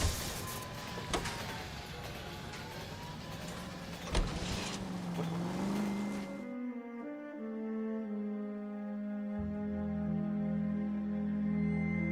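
A car driving in the video game L.A. Noire, with a steady engine drone and road rumble. A sudden change partway through drops the noise and leaves a smoother, humming tone that carries on to the end.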